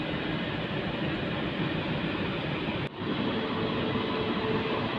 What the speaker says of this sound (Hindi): हमारी ट्रेन प्लेटफॉर्म नंबर 2 पर आ रही है